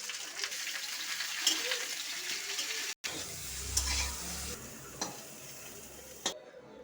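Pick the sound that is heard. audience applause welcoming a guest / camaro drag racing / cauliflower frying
cauliflower frying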